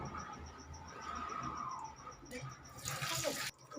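Potatoes being washed in water give a running, sloshing wash that swells into a brief louder splash before cutting off abruptly.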